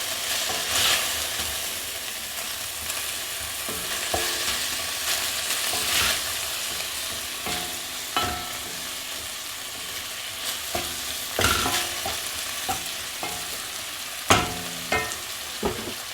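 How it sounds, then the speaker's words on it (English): Small chicken fillet pieces fry in a pan, a constant close sizzle broken by repeated scraping knocks of stirring at an uneven pace. "That gives it 10 minutes frying the chicken."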